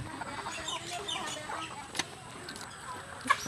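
Desi chickens on a small duck and chicken farm, a few soft clucks and brief rustling, fairly faint against a light background hum.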